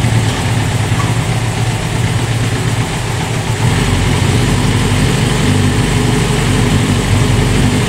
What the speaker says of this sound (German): Der Motor läuft auch schön ruhig